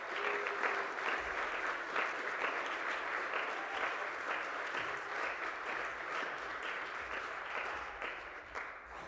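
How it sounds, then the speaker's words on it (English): An audience at an 8th grade graduation ceremony gives a steady, continuous round of applause for the sponsors, moderately distant and even, with no talking over it. "Let's give these sponsors a round of applause."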